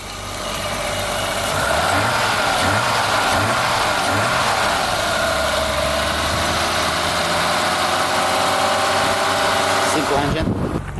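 A BMW E30 convertible sits idling with a steady, even engine hum at close range, a few brief blips early on, then cuts off near the end.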